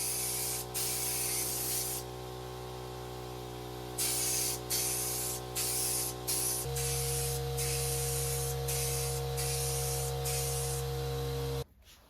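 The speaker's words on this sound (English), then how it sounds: "I used the same stain and I sprayed it on" Wood stain and mineral-spirit-diluted oil sprayed onto table panels: a steady, loud, close hiss running in long bursts with brief pauses between passes, then cutting off abruptly near the end.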